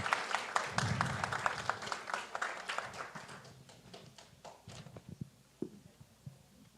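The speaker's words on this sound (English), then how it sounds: "A very big applause for Emilia" Audience applause for a contestant at a science pitch competition in Ecuador, clapping that starts fairly full, thins out and ends in a few scattered individual claps.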